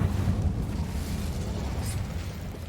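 Incendio fire spell cast in a Harry Potter video game, a dense roaring whoosh of flame with deep rumbling body, loud and sustained for a few seconds without letup.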